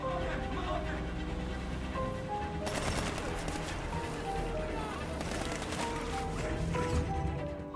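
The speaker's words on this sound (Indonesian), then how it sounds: "Naji yang tidak kompromi langsung memberondong sang kapten dengan senjatanya." Bursts of automatic gunfire as a Somali pirate sprays a cargo ship captain, loud crackling volleys over a dramatic background score with intense clattering stretches.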